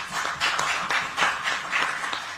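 An audience applauds at a Delhi government event marking 100 days in office, producing a steady wash of many hands clapping at close range that rises and falls slightly for the whole moment.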